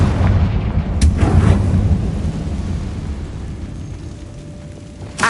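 A Confringo blasting spell explodes in Hogwarts Legacy, with a sharp crack around one second and a rumbling blast that fades slowly into a low, steady background.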